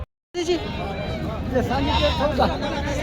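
A goat bleats amid a busy goat market in Jawala, with crowd chatter and background voices filling the scene after a brief silent start.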